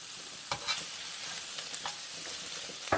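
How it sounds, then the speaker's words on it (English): Onions, garlic and kale sautéing in a pan with browned meat, a steady bright sizzle with occasional stirring scrapes, close and continuous, no voices. "we're going to add our onions and saute"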